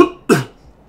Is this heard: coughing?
yes